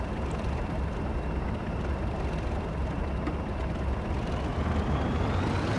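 A train in the Train Sim World 2021 video game releasing its brakes and pulling away, heard as a steady, loud mechanical rumble with a faint rising tone and a hiss near the end.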